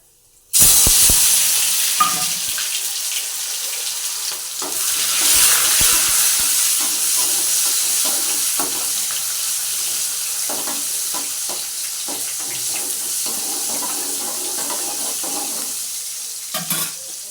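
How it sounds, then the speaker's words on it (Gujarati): Mustard seeds, cumin, curry leaves and fenugreek seeds crackle and sizzle in hot oil, a steady frying hiss that swells and settles, with occasional pops and the clink of a stirring spoon. "તેલ ગરમ થઈ ગયું છે. નાખશું રાઈ, જીરું, લીમડો, મેથીના દાણા,"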